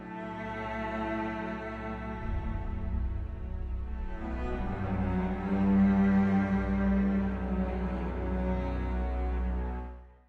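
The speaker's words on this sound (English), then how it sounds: "It's more sad and somber and regretful." A slow, mournful orchestral theme from Star Wars: The Bad Batch, with sustained low strings and a deep bass drone, swelling gently and holding steady before fading out at the end.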